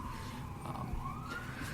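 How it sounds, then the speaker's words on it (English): A siren wails faintly in the distance, its tone slowly rising and falling over a low background rumble. "I apologize for the sirens in the background"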